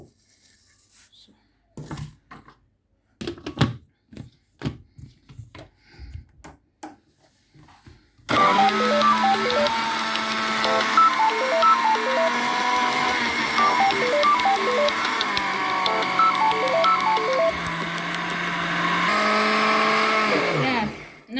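Oats are ground into flour in an electric grinder, a loud steady high-pitched whirring motor that starts abruptly after a few scattered clicks and knocks and runs continuously for over ten seconds before cutting off.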